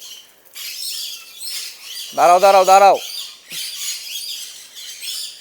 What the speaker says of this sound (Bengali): এই যে দেখেন পাখিগুলো এই যে কোনার মধ্যে এসছে ভিজতেছে